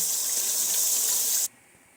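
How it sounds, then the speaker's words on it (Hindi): Water pours steadily into a cooking pot for kofta matar pulao, a bright hissing stream that stops abruptly around the middle and leaves a quiet room. "इसमें मैंने पानी शामिल कर दिया है"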